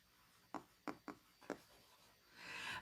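A stylus taps and scratches across an iPad screen in four short, quiet strokes, close up, followed by a soft rustle.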